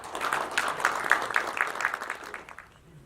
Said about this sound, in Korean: 이승환 대표님 박수로 맞아주십시오